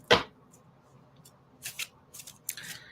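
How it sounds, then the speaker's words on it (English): A tarot deck gets a quick shuffle, heard as a sharp card snap at the start followed by a few soft, close riffling bursts of cards in an otherwise quiet room. "Give it a quick little shuffle."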